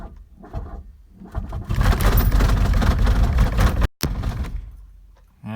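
A 1982 Volkswagen Rabbit diesel pickup truck cranks on a cold start, the starter churning steadily and loudly for a couple of seconds, cutting out abruptly and then grinding briefly again.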